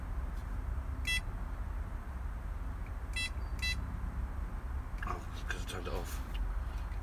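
ProLogic SMX Custom Black bite alarm sounding a few short, bright electronic beeps in quick pairs, followed by rustling handling noise, all over a constant low background hum.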